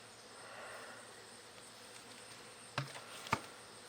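Honeybees swarm an opened hive during an afternoon inspection after a cool night, giving a faint, steady hum. Two sharp clicks stand out near the end.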